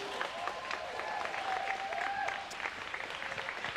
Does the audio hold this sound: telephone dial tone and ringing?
no